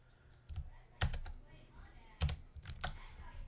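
Quick bursts of typing on a computer keyboard, close and moderately loud, several clusters of keystrokes separated by short pauses.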